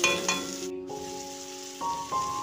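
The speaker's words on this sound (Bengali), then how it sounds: "এরপর আমি 3টা ছোট ছোট সাইজের আলু কেটে কুচি করে আমি তেলে দিয়ে দিলাম। দিয়ে তেলে একটু ভেজে নেব।" Three small chopped potatoes fry in hot oil, giving a soft, steady sizzle beneath sustained tonal background music.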